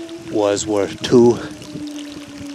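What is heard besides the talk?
water draining out of an old coal mine adit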